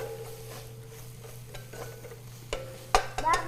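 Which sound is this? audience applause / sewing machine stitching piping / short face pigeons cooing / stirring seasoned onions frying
stirring seasoned onions frying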